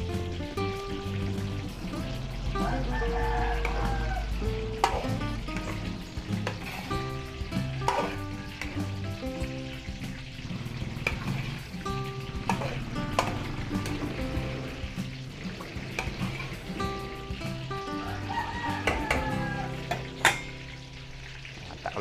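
Large pot of stew with liver spread and bay leaves, potatoes and carrots being stirred for a birthday feast, a steady bubbling sizzle with the clatter of the spoon throughout.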